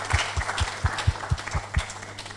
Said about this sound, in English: join me to clap for Enable for the great job.